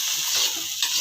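Egg rice sizzles and crackles in a hot pan with brief stirring scrapes, a close, bright hiss that pulses a couple of times in about a second.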